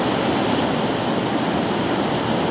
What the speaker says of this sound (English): The sound of the rain on the metal roof is so wonderful at night when you're sleeping.